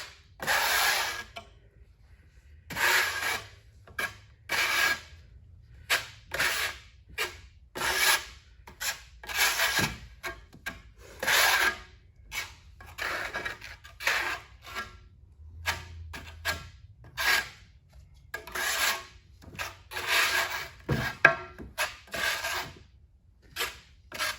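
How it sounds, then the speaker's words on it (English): A trowel's flat side scrapes and spreads thinset mortar onto a surface for tile installation, giving repeated rhythmic rasping strokes, loud and close, each about a second long with short gaps between them, and no talking. "Always want to use the flat side of our trowel first to maximize coverage and fill in all the low spots"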